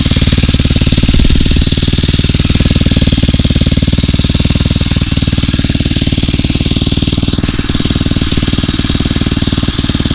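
A Phatmoto Rover motorized bicycle's 79cc 4-stroke engine runs close and loud, its rapid, steady chugging pulse continuing throughout with no talk.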